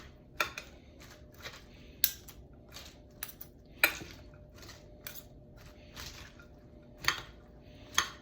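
Seville orange and pinto bean salad being tossed in a bowl: a sparse run of soft wet clicks and light clatters at irregular intervals, close and quiet, with no speech.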